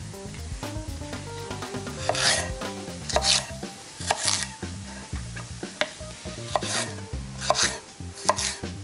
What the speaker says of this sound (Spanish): Vamos ahora con las ramitas de apio.